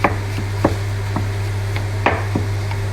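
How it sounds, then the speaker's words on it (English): A knife rough-chops garlic on a board for a Moroccan chicken and vegetable stew, giving a handful of sharp, irregular taps close by over a steady kitchen hum. "What I'm doing is I'm just rough chopping"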